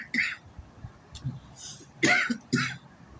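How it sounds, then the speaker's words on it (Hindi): A person coughs and clears their throat during a spoken accounting lecture, with three short, close bursts: one near the start and two in quick succession later. "सॉरी खांसी ज़रा हो गई।"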